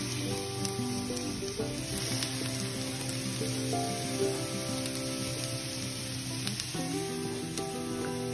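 Tulingan fish laid in a pan over ginger and onion, frying with a steady close sizzle and crackle, with faint tonal hums and a few light knocks from the pan.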